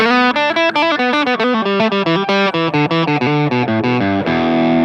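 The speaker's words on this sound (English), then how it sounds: "Almost like a cocked wah sound." A fast run of distorted electric guitar lead notes with a nasal, filtered, wah-like tone, ending on a held, ringing note.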